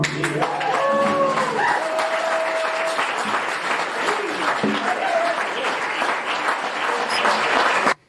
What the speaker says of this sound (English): Round of applause in the green room here.